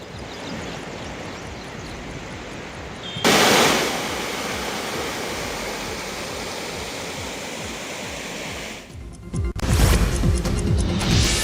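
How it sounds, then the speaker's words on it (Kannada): A heavy downpour in Bidar makes a dense, steady roar of rain and rushing water that swells louder in bursts. No distinct thunderclap stands out. "ಬೀದರ್ನಲ್ಲೂ ಗುಡುಗು ಸಹಿತ ಧಾರಾಕಾರ ಮಳೆಯಾಗ್ತಾ ಇದೆ"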